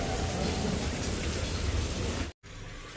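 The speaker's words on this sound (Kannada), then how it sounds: "ಬಿಡದೆ ಮಳೆ ಉಯ್ತಾನೆ ಐತೆ" Heavy, nonstop rain pours down in Goa, a dense close roar that cuts out abruptly near the end and then returns a little softer.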